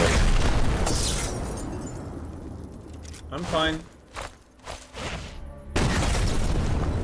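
A howitzer turret gun in the video game Sniper Elite 4 fires and explodes, with heavy broadband booms and rumbling blasts at the start and end and a player talking in between.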